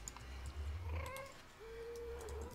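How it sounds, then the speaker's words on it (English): A Minecraft ghast crying: two faint, wavering, high wails that rise and then hold, distant and quiet against a low background rumble, with no talking. "that ghast noise is bothering me, though"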